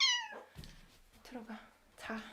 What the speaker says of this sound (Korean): my cat is awake.